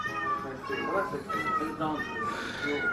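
Cats meow repeatedly in a novelty Christmas recording of cat sounds, the high voices steady and fairly loud across the whole stretch, with some human talk mixed in underneath.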